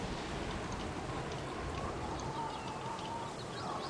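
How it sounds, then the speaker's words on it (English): Steady rain in the Baldur's Gate Enhanced Edition video game, a constant dense patter with faint bird-like calls and watery chirps scattered through it, unbroken throughout. "Hope this rain stops soon."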